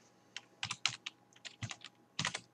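Code being typed on a computer keyboard, with quick irregular clusters of close, crisp key clicks in short bursts and no talking.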